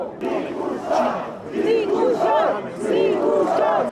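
A crowd of pro-European supporters massed at a rally point in Romania on election night, chanting in loud rhythmic waves of shouting, dense and sustained across the whole stretch.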